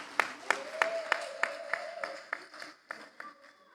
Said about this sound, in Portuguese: Palmas para Jesus. Pode aplaudir a Jesus.